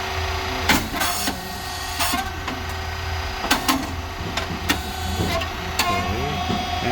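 SYP9502 rice cake machine with coated moulds running, a steady mechanical hum and motor drone punctuated by repeated sharp clacks and hissing bursts at irregular intervals.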